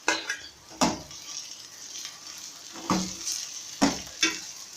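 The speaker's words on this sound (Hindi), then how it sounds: "भिंडी को अब हम इसमें फ्राई करेंगे।" Okra with onions frying in a pan, stirred in several distinct scraping strokes over a steady close sizzle.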